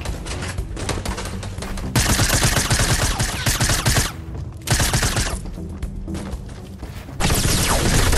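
Rapid bursts of gunfire from the Fortnite Battle Royale video game, dense fusillades with brief pauses between volleys, loud and continuous with no talking.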